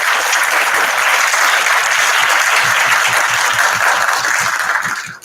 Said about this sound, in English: we would like to give a big round of applause to Professor Guessoum.